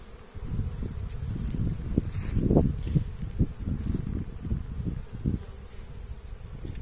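Honeybees foraging and bringing pollen back to their hives buzz close by, individual bees swelling and fading as they fly past, with light rustling underneath.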